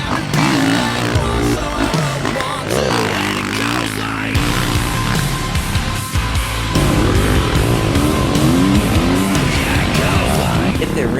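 Dirt bikes race around an arenacross motocross track, their engines loudly revving and wailing up and down through gear changes, with overlapping bikes roaring close by.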